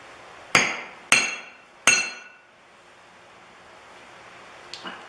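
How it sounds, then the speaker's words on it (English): Three sharp metallic hammer strikes on a blacksmith's flatter while forging a rounding hammer ring out in quick succession, each with a bright clanging decay, followed by quiet and a faint light tap near the end. "have your striker hit with the flatter on the flat face"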